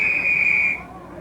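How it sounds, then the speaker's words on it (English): A referee's whistle sounds at a 1993 USA rugby sevens final, a single loud, sustained shrill blast lasting under a second over crowd and commentary noise. "We have another whistle."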